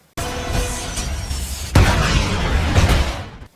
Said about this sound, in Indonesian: Melina meledakkan salah satu mesin di Red Room, membuat beberapa penjaga berjatuhan